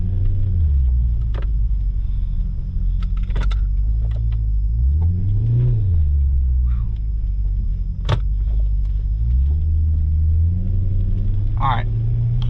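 A fire-damaged Ferrari-styled car's engine rumbles loud and close on the road, its pitch climbing and falling through gear pulls, while someone talks over it.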